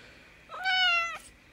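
A cat gives one clear, drawn-out meow, close and distinct, about half a second long, rising and then falling away, with nothing else heard.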